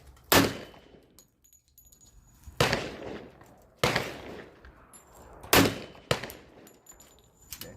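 Shots from an ATI FXH45 Moxie 1911 hybrid pistol: five loud, sharp reports at uneven intervals, each followed by a short ringing decay, with no talk in between.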